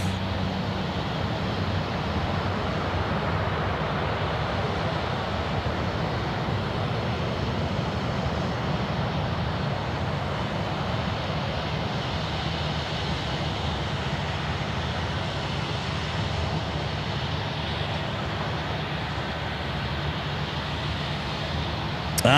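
An All Nippon Airways jet lines up on runway 16 right, its engines producing a steady, distant broadband rumble and rushing drone that stays fairly even with no talk.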